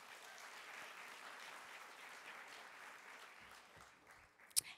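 An audience applauds at a book awards finalist reading, a soft, even wash of clapping from a large crowd heard at a distance that fades toward the end, closed by a single sharper knock.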